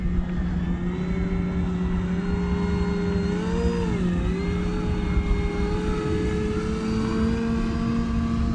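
A giant-scale E-flite Carbon Z Cub SS RC float plane flies aerobatics, its electric motor holding a steady propeller drone that rises and dips slightly as the throttle shifts, loud and continuous throughout with no talk.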